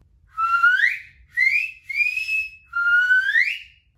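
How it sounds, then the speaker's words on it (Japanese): Finger whistle blown in four loud, close, high-pitched bursts, each sliding upward in pitch, with short gaps between and no talking. "押し出して高い音を作ってます。"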